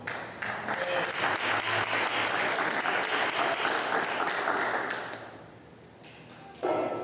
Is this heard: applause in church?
yes